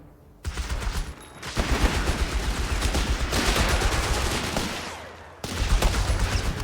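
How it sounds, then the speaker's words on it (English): Machine guns keep enemy infantry pinned down in the WWII strategy game Company of Heroes 3, firing long, dense sustained bursts with a brief gap midway before another loud burst starts up. "Our machine guns should keep them pinned down."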